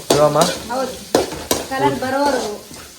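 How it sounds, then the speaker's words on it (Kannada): Chopped onions fry in tempering oil in a home kitchen: a light crackling sizzle with stirring scrapes runs beneath a voice talking throughout. "ಈರುಳ್ಳಿ ಸ್ವಲ್ಪ ಕಲರ್ ಹೋಗೋವರೆಗೂ ಫ್ರೈ ಮಾಡ್ಕೋಬೇಕು"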